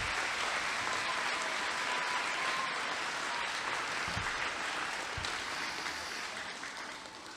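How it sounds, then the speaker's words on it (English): An elementary school audience at Mountain View applauds its students, a steady wash of many hands clapping indoors that holds evenly and then tapers slightly toward the end. "Please give a round of applause to the students of Mountain View."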